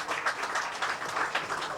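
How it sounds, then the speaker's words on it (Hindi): A crowd applauds warmly to welcome Ram Jethmalani at his 87th birthday celebration, a steady wash of many hands clapping at moderate loudness with no voices over it. "जोरदार तालियों के साथ उनका स्वागत किया जाए।"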